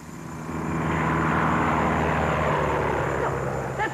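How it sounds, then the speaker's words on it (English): A transcontinental propeller airplane drones steadily overhead, its engine roar rising and holding loud for several seconds with no voices. "Oh, that's the transcontinental airplane."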